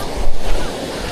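Rushing water at a Philippine river waterfall, a loud, steady broadband roar with a gust of wind buffeting the microphone early on.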